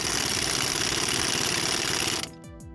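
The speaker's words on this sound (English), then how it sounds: "you just take an impact and you hit it until it pulls through" An impact wrench hammers a wheel lug bolt through its hub until it seats. A dense, loud, continuous rattling buzz runs for about two seconds, then cuts off abruptly.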